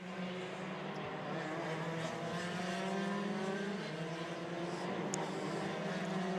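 DD2 racing karts at an IKC championship round buzz around a circuit, their engines a steady distant drone with shifting pitch, faint and continuous.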